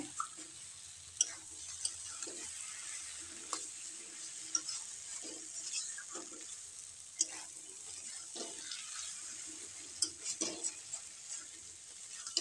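Cabbage and potatoes stir-fried in a pan for a Bengali vegetarian cabbage dish, giving a steady soft sizzle broken by repeated scraping and stirring clinks from a spatula, close and moderately quiet.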